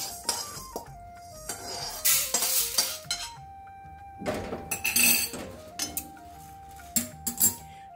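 Urad dal roasts dry in a pan while a spoon stirs it, giving repeated scraping, rattling bursts and clinks against the metal over a faint sizzle, with quiet gaps between strokes.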